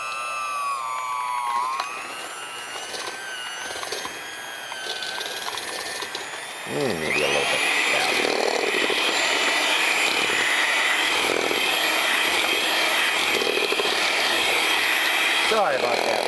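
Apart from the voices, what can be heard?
electric blender mixing cookie cream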